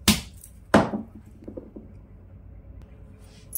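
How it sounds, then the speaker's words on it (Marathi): Whole onions cracked open by hand for Kolhapuri misal, two sharp crunching snaps close up, the second louder, followed by faint rustling and small handling sounds with no talk. "दुसरे सुद्धा फोडून घ्यायचे"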